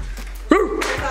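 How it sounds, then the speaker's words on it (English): A single loud, close dog bark in a front yard cuts through steady background hum, followed by faint further noise. "You see these dogs in your front yard?"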